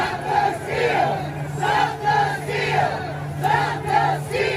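Rioting crowd on the east side of the US Capitol during the January 6 siege, a dense mass of shouting and chanting voices rising in repeated loud surges over a constant low hum, with no single speaker standing out.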